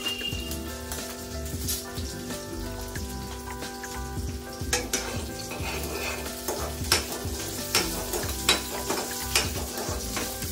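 Food fries in oil on a stove during blindfolded cooking, a continuous close sizzle broken by repeated scraping stirs and clinks of a utensil against the pan.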